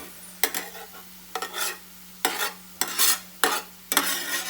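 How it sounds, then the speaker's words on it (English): Onions for birista fried in hot oil in a home kitchen while cooking egg dum biryani, heard as bursts of bright hissing sizzle with stirring scrapes, several loud pulses repeating about once a second, close up with no talking. "This will further get roasted on its own because the oil is hot."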